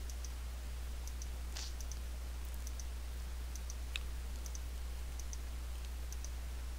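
A computer mouse clicks repeatedly while files are selected, producing light, close double clicks at a steady pace over a constant low electrical hum.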